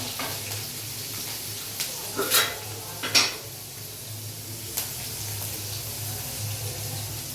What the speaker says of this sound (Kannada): ಗ್ರೀನ್ ಚಿಲ್ಲಿ ಹಾಕಿದ್ದೀನಿ, ಅದು ಸ್ವಲ್ಪ ಫ್ರೈ ಆಗಬೇಕು